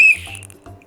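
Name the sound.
whistle blown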